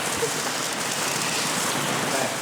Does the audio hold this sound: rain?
yes